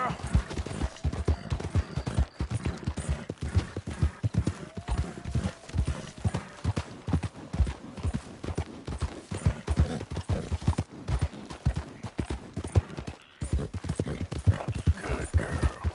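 A ridden horse's hooves clip-clop in a steady, close, even rhythm on hard ground, continuing for a long stretch with faint background noise.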